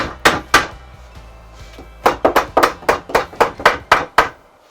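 Sharp percussive knocks strike whiskey barrel bench wood in two bursts, a pair of hits and then a rapid run of about ten evenly spaced loud blows, close and alone.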